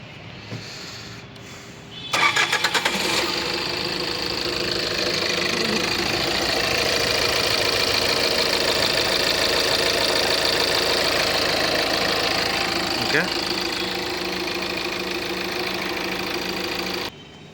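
A 2019 Tata Nexon automatic cranks and catches after a short start, then settles into a steady, loud, close idle for the rest of the clip.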